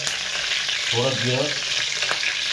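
Curry leaves and cumin seeds sizzle in hot oil, a continuous close crackling hiss, with a brief voice murmuring partway through.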